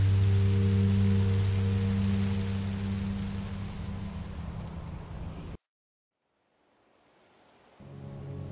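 Steady broadband rain hiss from the Minecraft Story Mode video game, loud and continuous for about five seconds, then cutting abruptly to near silence before fading back in more quietly.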